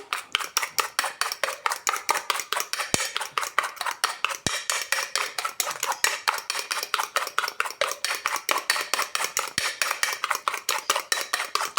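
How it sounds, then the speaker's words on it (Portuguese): Egg whites for a coconut cake are whisked to stiff peaks in a bowl, the whisk clacking against the sides in a fast, steady rhythm. The strokes run continuous and close for about twelve seconds, with a few sharper knocks along the way. "batendo nossas claras em neve"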